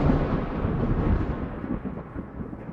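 Thunder rumbling after a lightning strike, a deep, sustained low roll that slowly fades, heavy and fairly close, with no voices.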